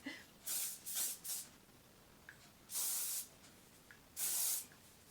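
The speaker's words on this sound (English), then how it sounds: "This is a strong spray wax, and ooh, I'm going to shake that up." Goldwell Creative Texture strong spray wax hissing from a can onto hair in short bursts, several quick puffs early then two longer sprays, close and clear with no talk.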